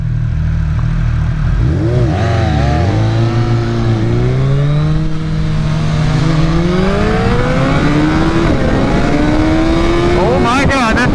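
A Triumph Speed Triple racing a tuned 2022 Suzuki Hayabusa with velocity stacks, engines droning loud and close, then climbing in pitch through repeated gear changes as they accelerate hard, with wind roar throughout and a brief spoken voice.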